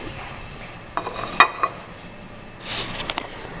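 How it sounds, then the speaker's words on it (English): Metal lid set back onto a tamale cooking pot, a few sharp clanks and clinks near the mic, then a brief rattling scrape, with quiet background between. "Put the lid back on."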